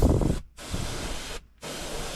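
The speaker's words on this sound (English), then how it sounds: "We'll be spraying this on." A steady airbrush hiss spraying Vallejo model paint thinned with flow improver onto a scale model, in three bursts broken by two brief pauses.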